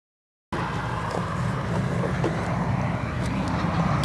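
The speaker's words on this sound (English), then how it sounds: "We are hoping that this aircraft comes down and departs full length on runway 10 left." Airliner departing on an O'Hare airport runway, a loud, steady engine roar that starts suddenly after a moment of silence and holds as a broad, continuous rumble with faint scattered background noise.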